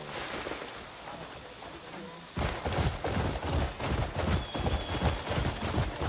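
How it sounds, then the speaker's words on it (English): Horse hooves pound in a steady galloping rhythm in the video game Crimson Desert, starting abruptly after a soft ambient opening and continuing loud and close with rain-like background noise. "we'll use our horse as much as we can"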